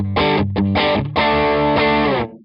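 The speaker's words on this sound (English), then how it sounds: "This is my favorite as far as the distortion is concerned." A heavily distorted guitar through a Chellee Odie overdrive pedal with its clipping diodes switched in plays a few chugging chords, then holds a long sustained, saturated chord that fades out.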